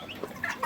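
Chickens clucking at a farm animal sale, a few short close clucks and soft calls in quick succession with no talk over them.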